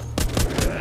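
Gunfire from shooting zombies in the mobile game The Walking Zombies 2: three quick, sharp shots in rapid succession, loud and close, with no talking.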